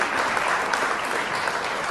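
Audience applause at an award ceremony for a disability singing contest, a dense steady clapping from many hands that holds evenly throughout with no voices.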